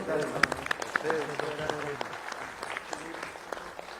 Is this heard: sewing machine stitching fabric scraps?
no